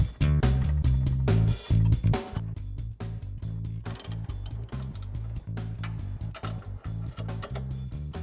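A hand ratchet works loose a 12mm nut on a stock front strut during a BC Racing coilover install, clicking rapidly and loudly up close in continuous bursts with short pauses between strokes.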